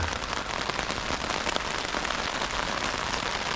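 Heavy rain falling steadily on the coast-to-coast route in England: a dense, even hiss of drops striking surfaces, unbroken and fairly close, with no talking.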